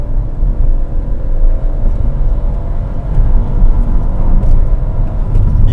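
Fiat Pulse engine under full throttle heard from inside the car, a loud, steady low drone that rises slightly as revs climb, continuous with no talking.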